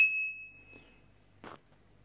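A bicycle bell on a 26-inch Galano Toxic kids' hardtail mountain bike gives one bright, clear ding that rings out and slowly fades, followed by a faint clatter in a quiet room.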